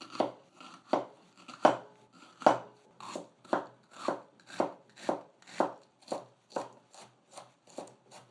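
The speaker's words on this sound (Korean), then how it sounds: "당근 40g 아주 얇게 다지겠습니다. 양파 반개 100g 요것도 다지겠습니다." A knife finely minces 40 g of carrot and half an onion (100 g) on a cutting board for abalone porridge, making about fifteen close, crisp, evenly spaced chops in a steady rhythm with no talking.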